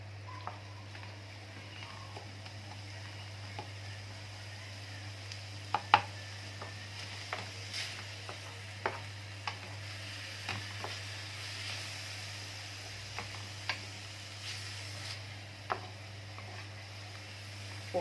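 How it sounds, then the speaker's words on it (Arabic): Liver and garlic are stirred in a frying pan, with soft scattered taps and scrapes of the utensil over a faint sizzle and a steady low hum. "هنفضل نقلب كده لحد ما الكبده تتشمع معانا"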